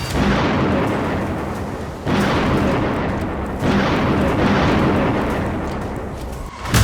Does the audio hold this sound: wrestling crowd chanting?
no